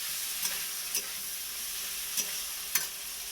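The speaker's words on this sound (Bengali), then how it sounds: "পোস্তটা যে বেটে রেখেছিলাম এটা ঢেলে দেবো। এটা কিন্তু বেশিক্ষণ নাড়বো।" Poppy seed paste stirred into shrimp and vegetables frying in a pan, a steady close sizzle with a few sharp spatula scrapes and knocks scattered through it.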